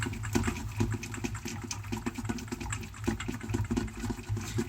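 Rapid rhythmic clicking of a whisk against a bowl while hollandaise sauce is beaten continuously, a fairly faint, even pattern of strokes with no talking.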